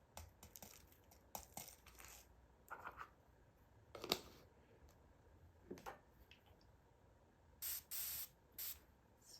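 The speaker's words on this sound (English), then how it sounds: "I'm also going to spray this one." Spray bottle misting water into an enclosure for pet isopods or jumping spiders, three quick hissing bursts near the end, preceded by quiet clicks, taps and handling noises.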